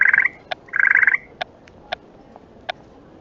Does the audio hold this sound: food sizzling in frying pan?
no